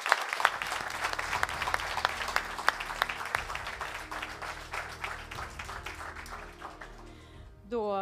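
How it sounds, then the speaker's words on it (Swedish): An audience at an agtech innovation award ceremony gives warm, sustained applause. The applause starts with sharp, distinct claps, thickens into a steady wash and tapers off near the end, when a voice comes in. "En varm applåd!"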